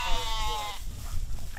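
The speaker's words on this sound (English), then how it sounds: "Animals like these goats and sheep are adorable, right?" A farm goat or sheep lets out one close, wavering bleat that fades out, leaving low outdoor ambient noise and faint rustling.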